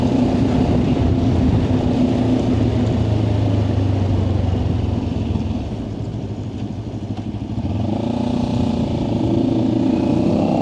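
A motor vehicle drives along a scenic mountain road in Pakistan near Hunza. Its engine drones loud and steady, eases off briefly, then rises again.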